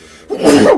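A single sudden sneeze bursts out loud and close after a brief quiet moment, sharp at its start and trailing off quickly, with no talking around it.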